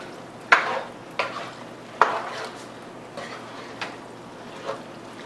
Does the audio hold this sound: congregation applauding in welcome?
no